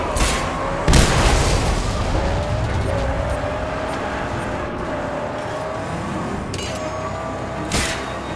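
Heavy booms and blasts from bombs detonating on an unprotected fuel tank in the video game Mad Max, with a sharp loud burst near the start and another near the end over a continuous rumbling, roaring background.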